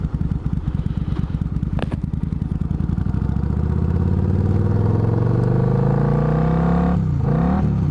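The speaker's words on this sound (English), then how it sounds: "Downshift's real nice." A Suzuki Marauder VZ800 cruiser downshifts while riding, its engine note dropping through a rapid pulsing then rising steadily in pitch, loud and close with wind rush and no talking.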